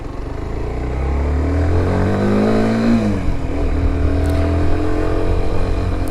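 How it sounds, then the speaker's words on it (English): Sym Wolf 125 sport motorcycle with a 125 cc engine, its exhaust humming steadily up close, the pitch rising through a rev and then easing back to a smooth even drone. "An engine noise, or exhaust noise I should say, yeah, it sounds very much like just a typical 125 really."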